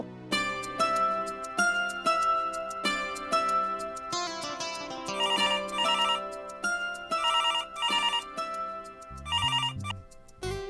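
A telephone rings repeatedly in an indoor Bangla drama scene, its electronic ringtone chirping in steady bursts over a low background music bed, loud and close with no talk.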